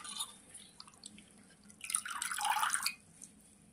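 Coriander leaves are rinsed and squeezed by hand in water, producing faint splashes and drips with a brief burst of sloshing in the middle, close and quiet.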